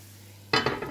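Leeks with salt hitting a heated frying pan, bursting into a sudden loud sizzle after a half-second of quiet, with a few stirring clinks as the frying continues.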